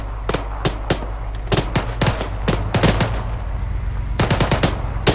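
Rapid bursts of gunfire from a video game firefight, close and loud: dozens of sharp shots in irregular clusters and volleys over a low, steady background rumble.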